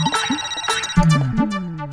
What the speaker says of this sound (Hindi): अहो फोन बज रहा है आपका।